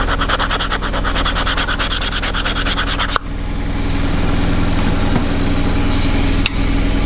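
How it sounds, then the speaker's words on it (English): A hone is drawn in quick, rhythmic rasping strokes along a woodturning tool while a lathe drones steadily underneath. The strokes stop after a few seconds, leaving a continuous machine hum broken by a couple of sharp clicks. "Doesn't feel quite sharp enough. So with a hone."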